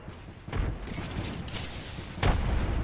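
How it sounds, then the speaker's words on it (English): Grenade blasts in a Battlegrounds esports match, two muffled booms landing about two seconds apart over a steady background wash, with no talk. "Nades coming on out"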